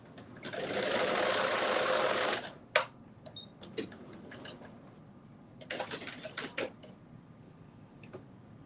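A sewing machine stitches fabric for dressy joggers in a loud continuous whirring run of about two seconds, followed by scattered clicks and a few brief stitching bursts later.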